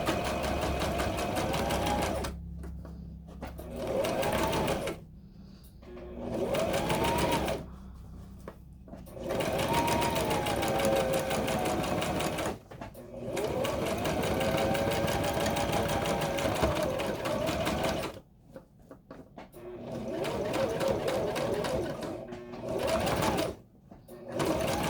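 A sewing machine stitching through a tote bag strap in long, steady motor runs broken by short pauses, close and loud, with a person talking over parts of it.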